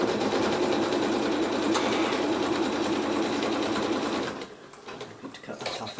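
A sewing machine runs steadily, stitching a seam across the bottom of a quilt block in an embroidery hoop, its fast continuous whir loud and close before cutting off near the end, leaving faint handling noises.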